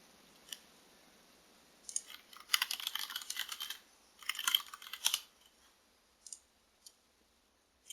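Computer keyboard keys clatter as a gcloud command is typed, bursts of quick clicks in uneven clusters with pauses and a few isolated taps, close and fairly quiet, with no talking.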